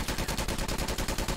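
SMG fire from Call of Duty Black Ops 1 Remastered, a fast steady burst of rapid shots in an unbroken stream, loud and close.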